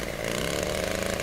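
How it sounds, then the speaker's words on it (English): An old two-man chainsaw engine runs steadily at high revs, a loud, raspy continuous buzz with no talking. "Here's an old-time chainsaw. As you can see, it's a two-man operation."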